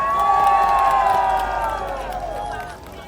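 A crowd at a South Korean presidential campaign rally in Anseong cheers and applauds steadily and loudly for about three seconds, with shouting voices rising above the clapping before it eases slightly toward the end.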